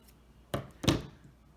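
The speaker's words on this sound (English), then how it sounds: "We fold that in half again and just cut out a leaf shape" Scissors make two quick close snips through folded paper while a leaf shape is cut, each a short crisp crunch in a quiet room.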